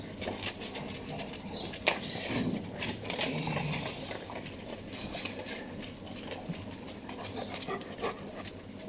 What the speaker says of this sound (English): The dogs are eating biscuits, by the way, if you're wondering what the noise is.